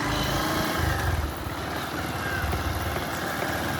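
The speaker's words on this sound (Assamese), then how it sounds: "এতিয়া বাইক চলাব পিয়াঞ্চুৱে, মই উঠিম।" A motorcycle engine idles close by, a steady low putter with a quick pulsing rhythm that holds evenly throughout, with no talking.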